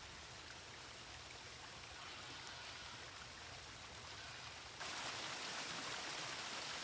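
Water flowing through the broodstock sheds of a fish farm, a steady dense rush like a stream or small waterfall, continuous and loud, growing brighter near the end, with no voices.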